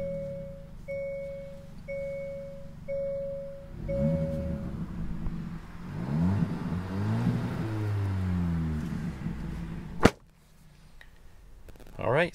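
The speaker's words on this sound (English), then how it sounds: "the exhaust sounds amazing. There is a good amount of pops and crackles from this exhaust" A 2022 Hyundai Elantra N Line idles with a steady hum, then its exhaust rises and falls through revs with crackling pops, ending in one sharp loud bang before dropping quiet.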